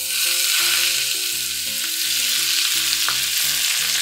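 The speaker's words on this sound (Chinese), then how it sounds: "最后一步加入灵魂热油" Hot oil poured over a bowl of dipping sauce of minced garlic, bird's-eye chili, soy sauce, vinegar, oyster sauce, hotpot base, chili flakes and sesame, giving a loud, steady, bubbling sizzle that lasts throughout, with music playing underneath.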